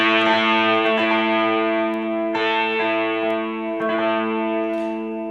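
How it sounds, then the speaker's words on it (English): A distorted electric guitar plays a riff, sustaining thick, buzzing chords with a swirling effect, shifting notes every second or so, loud and continuous with no talking. "It sounds like this"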